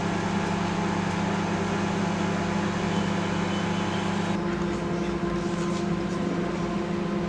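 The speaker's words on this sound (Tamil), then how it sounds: "இப்போ நம்ம மைக்ரோவேவில் ஒரு 5 minutes வச்சிடலாம்." A microwave oven cooks lady's finger for poriyal, giving a steady, unbroken droning hum at moderate level with a low electrical buzz and no voices.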